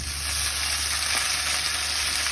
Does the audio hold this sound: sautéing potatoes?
yes